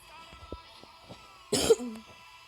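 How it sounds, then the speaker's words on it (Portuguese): One short burst of coughing, close and sharp, after a quiet stretch with faint clicks and background sounds. "tossindo também é pior ainda"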